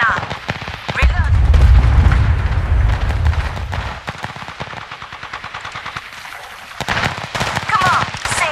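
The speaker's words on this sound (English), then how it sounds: "Listen up, I'm getting shot at." Gunfire in the video game Apex Legends, rapid automatic bursts with heavy low thumps early on and more shots near the end, with people talking over it.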